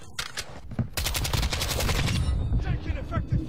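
Dense automatic gunfire from Call of Duty Warzone 2, loud and close, with rapid bursts overlapping into a continuous rattle.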